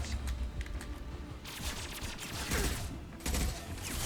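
Rapid bursts of gunfire crackle in the video game Mass Effect 2, dense overlapping shots coming in waves with mechanical clatter, moderately loud and continuous across the scene.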